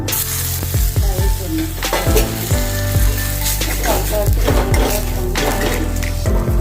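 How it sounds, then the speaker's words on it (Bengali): Mustard oil sizzles loudly in a pan during Bengali cooking with gram flour, a dense crackling hiss broken by repeated clinks and scrapes of a stirring utensil against the pan. "সর্ষের তেল দিয়ে রান্না করছি।"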